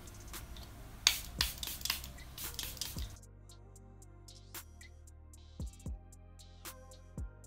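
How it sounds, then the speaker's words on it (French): Makeup setting spray spritzed near the face, a few quick sharp hissing bursts up close, followed by quieter light taps and handling noise. "Un dernier coup de spray."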